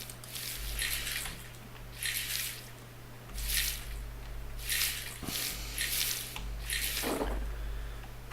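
Water sloshes in a gold pan during panning in the video game Gold Rush, with repeated soft splashing swirls at a regular rhythm over a steady low hum.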